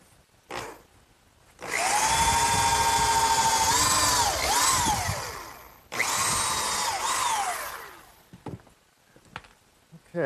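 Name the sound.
power drill pre-drilling screw holes in pressure-treated lumber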